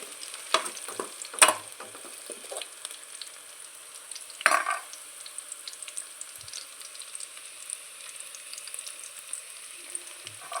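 Onions frying in a pan with a cardamom pod added, a steady close sizzle under a couple of sharp clatters of stirring, with no talk.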